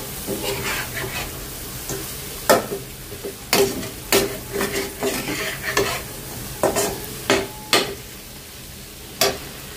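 Noodles being stir-fried with a gifted spice mix in a home kitchen pan: a soft background sizzle broken by repeated sharp scraping and clattering strokes of a spatula, bunched in irregular bursts, close and fairly loud, with no talking.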